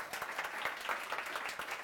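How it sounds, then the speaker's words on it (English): A live audience at a robotics talk claps for a kidney cancer surgeon, a faint, steady patter of many hands heard at a distance with no clear voices over it. "Clap for the surgeon that actually did the work."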